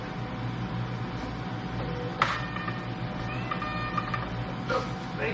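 A home sticker-shop printer runs steadily while printing orders, with a constant mechanical hum and whir and a few sharper clicks and feed sounds over the top.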